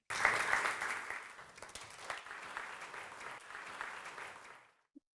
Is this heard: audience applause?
yes